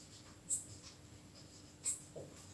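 Pen strokes writing out the average speed formula, two short scratchy marks about a second apart with soft quiet noise between, close and faint.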